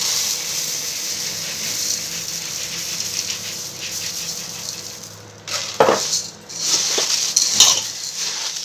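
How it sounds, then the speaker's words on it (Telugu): Puffed rice (muri) tipped into a bowl and stirred for a puri muri mixture snack, a steady dry rustle that turns to louder crisp scraping and clatter of grains near the end. "ఈ విధంగా చేసుకున్నాక మురీలు యాడ్ చేసుకుంటున్నాను."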